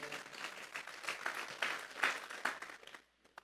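Church congregation applauding, a dense run of hand claps rising and falling in waves for about three seconds before cutting off into near silence with a couple of final claps.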